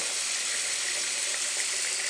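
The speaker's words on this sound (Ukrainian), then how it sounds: "Пропустити холодною водою." Cold tap water runs steadily into a kitchen sink for rinsing, a continuous close, loud hiss with no talk over it.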